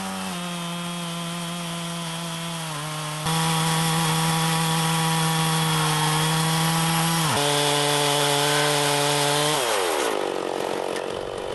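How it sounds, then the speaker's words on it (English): A chainsaw mounted in an Alaskan chainsaw mill saws lengthwise through a log with a steady, loud, close engine drone, the pitch rising under load and dipping briefly before the cut ends. "For this first cut, the mill just rides right along the top of the ladder."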